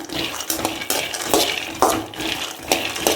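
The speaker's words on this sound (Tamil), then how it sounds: "மல்லாட்டையை போட்டு லேசாக வறுத்து எடுத்துக்கணும்" Peanuts lightly frying in oil in a pan, with a close, continuous sizzle and repeated scraping and clinking of a spatula stirring against the metal, steady and fairly loud.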